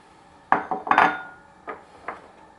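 Sugar being added to an enameled cast iron Dutch oven for syrup, heard as a few sharp clinks and rattles of a utensil against the pot, close and fairly loud, with no talking.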